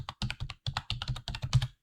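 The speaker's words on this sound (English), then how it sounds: "I'm typing in blind" Someone types on a computer keyboard in quick irregular bursts of close, crisp key clicks with short pauses between words. No voices.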